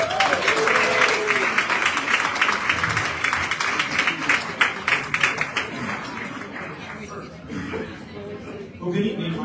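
Audience applause for a big band at an evening holiday concert, a dense sustained clapping from a large crowd with a few chuckles, tapering off toward the end.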